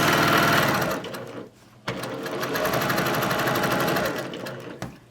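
A sewing machine stitches a shirt seam in fast, steady rapid bursts, pausing briefly midway before running on again, close and clear with talking over it.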